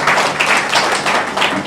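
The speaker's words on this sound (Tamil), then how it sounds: "இவர் 4 பேருக்கும் ஒரு பலத்த கைத்தட்டல் கொடுக்கலாம்" Crowd applause at a Tamil debate event, a steady wash of many hands clapping at close range that fills the short stretch without letting up.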